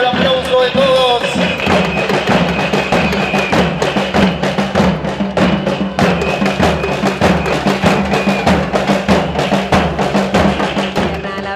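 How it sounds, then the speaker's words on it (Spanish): Carnival crowd in Uranga clapping along in a steady, loud rhythm over music, sharp hand strikes repeating throughout. "vámonos al aplauso de todos"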